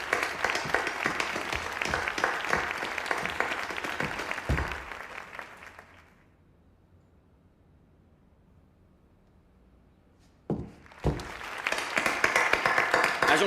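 An audience gives a loud burst of applause for a bomb disposal expert in a French action film, fading to near silence, then a second round of clapping rises.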